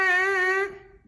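A single steady buzzing tone comes from lips blown into a trumpet mouthpiece at a school band demonstration. It holds for about half a second and then fades away, with no voice.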